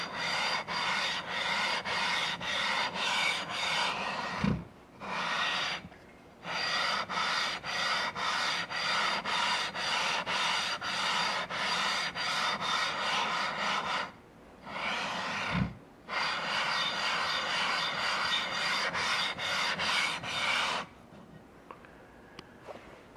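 A tool is lapped back and forth on a Nano-Hone lapping plate, giving a steady, loud, close rasping rub in long continuous runs broken by two short pauses and a quiet stretch at the end.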